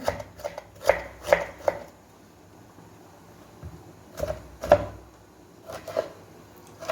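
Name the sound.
finely chopping tomatoes with a knife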